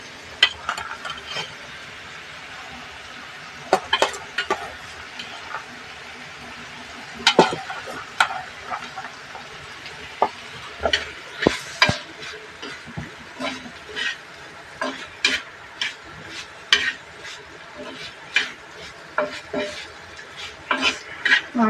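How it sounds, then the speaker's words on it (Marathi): Black-eyed peas are stirred into hot oil in a pan, with frequent metal spoon scrapes and clinks over a soft sizzle, close and irregular, and no voices. "ही आपली चवळी त्याच्यामध्ये मिक्स करायची"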